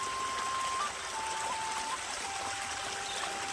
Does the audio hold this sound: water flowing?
yes